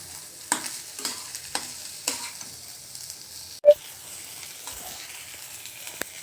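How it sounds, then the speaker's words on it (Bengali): Rice for pulao frying in a pot, a soft steady sizzle with spoon scrapes and stirring strokes recurring about every half second, one sharper knock partway through, no talking. "চাউলটা ভাজা শেষ"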